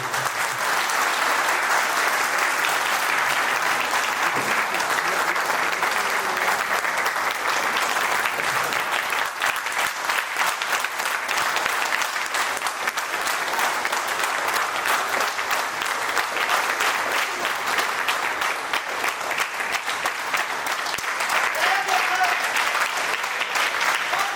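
Loud, sustained audience applause fills a motivational talk venue, a dense, even wash of many hands clapping that runs without a break for the whole stretch, with no voices on top.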